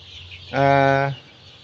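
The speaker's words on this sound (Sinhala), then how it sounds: "ඉතින් 120ක් වගේ ඉන්නවා කුකුල් පැටව මෙතන" Young chicks on a poultry farm give one short, loud, harmonic call lasting about half a second, clear and close against faint background noise.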